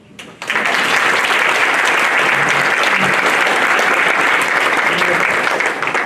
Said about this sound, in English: My folks deserve a round of applause.